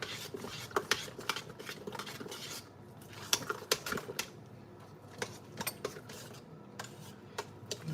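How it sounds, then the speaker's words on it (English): A spoon stirring mashed potatoes and melting butter in a pot, with quiet scraping and irregular clinks of metal against the pot, close up and soft. "we're going to go ahead and give that a nice stir"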